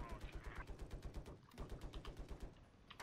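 Attack helicopter gunfire in a video game set in Shanghai: rapid, steady bursts of automatic fire repeating throughout, fairly faint and mixed with game noise, with a player's voice talking over it.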